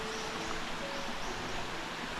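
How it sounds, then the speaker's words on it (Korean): A small valley stream runs gently between rocks near a mountain trail, making a soft, steady babbling wash that sounds fairly close and continuous. "투명한 물은 바위 사이를 부드럽게 지나가고 계곡을 따라 흐르는 물소리는 마치 자연이 들려주는 음악처럼 마음을 편안하게 만들어주네요."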